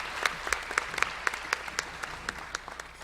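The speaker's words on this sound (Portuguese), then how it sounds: "a quem peço uma salva de palmas nesse instante" An audience at a consumer law conference gives a round of applause, moderate and even, with individual hand claps standing out in a fairly regular rhythm.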